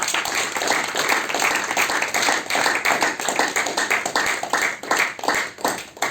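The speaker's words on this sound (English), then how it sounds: "resounding applause." An audience at a festival inaugural event gives sustained applause for presenters and organizers, loud clapping with distinct individual claps audible in a steady dense patter.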